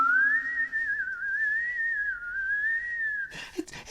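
A single long, wavering whistle for a spooky Halloween tale, loud and close, gliding up and down in pitch for about three seconds before breaking off into a few short noisy rustles.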